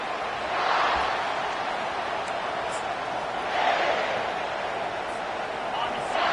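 Football stadium crowd gives off a steady, diffuse roar that swells twice, heard from a distance as one continuous wash of noise.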